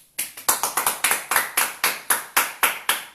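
Rhythmic hand clapping from a church congregation in a Spanish-language worship service, a steady series of sharp claps at moderate volume with no talking.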